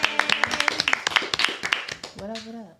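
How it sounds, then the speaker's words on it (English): A small group claps in quick, uneven bursts at a Chicago show, close and moderately loud, ending as a voice starts speaking. "Let's clap it up."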